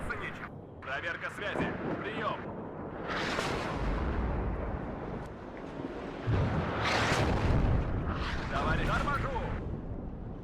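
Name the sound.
artillery fire in the video game WARNO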